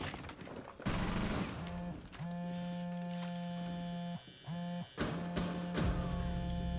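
Rapid bursts of Rainbow Six gunfire ring out in loud clusters, separated by steady sustained tones and brief pauses.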